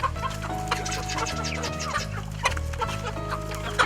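Backyard chickens clucking in irregular, close calls over a steady low hum and background music, with no talking.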